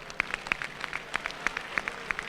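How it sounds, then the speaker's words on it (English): Audience at a radio gubernatorial debate giving a round of applause for the contestants, heard as scattered, sparse claps from a small crowd, fairly faint and irregular rather than a full ovation. "give a round of applause to the contestants"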